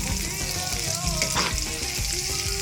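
Liver sizzles steadily while frying in a pan for ampalaya con itlog, with close scraping stirs and soft clinks layered over the continuous crackle.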